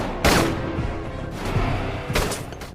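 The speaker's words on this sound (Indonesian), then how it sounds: "tiba-tiba petasan meledak dan Gabriel langsung menembaki Jacob" A few sharp gunshots in a bank robbery film crack out at irregular intervals over a dense, rumbling background of action noise.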